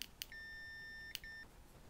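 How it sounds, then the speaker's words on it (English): A multimeter continuity buzzer on a display board sounds two steady electronic beeps, one long and one shorter, clear and close, with faint clicks from the probes touching. "I'm gonna put it in continuity and turn on the continuity buzzer so you hear it."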